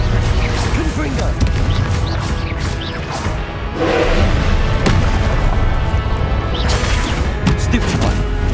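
A Confringo fire spell explodes in the video game Hogwarts Legacy, loud booming blasts and crashes amid continuous combat noise, with a voice calling out spells.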